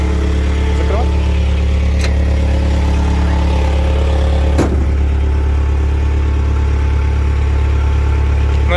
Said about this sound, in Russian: Работает ровно, хорошо. Выхлоп.